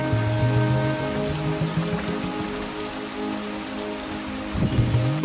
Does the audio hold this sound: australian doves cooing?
no